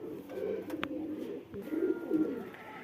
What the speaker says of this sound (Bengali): এই যে আমার পায়রা সব বসে আছে দেখুন